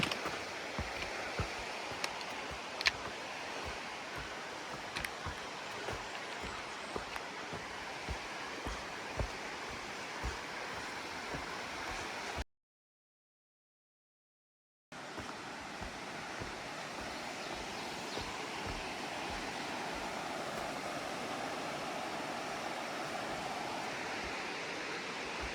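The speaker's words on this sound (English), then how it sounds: "This creek is taking over this bank over time." Steady broadband rush of a creek flowing beside an eroding bank on the Appalachian Trail near Killington Peak, continuous and fairly close, with a brief gap of silence midway and no voices.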